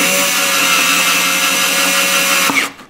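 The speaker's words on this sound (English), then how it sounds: "I'm gonna be drilling right through that." A power drill whines steadily and loudly as it bores through a plastic vacuum food container, then cuts off abruptly near the end.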